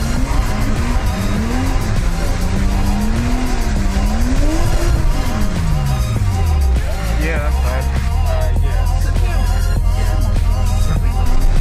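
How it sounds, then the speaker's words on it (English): A Nissan Skyline R33 GTST drifting at a drift day, its engine tone sweeping up and down while tires squeal loudly and continuously, close to the microphone with no break in the noise. "And then we'll skip quickly to the footage of me drifting a car in real life for the very first time."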